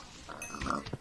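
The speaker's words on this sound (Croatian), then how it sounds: "Sad ovdje imamo malo svinja." A pig in Minecraft gives a short, close grunting oink, heard alone in the game.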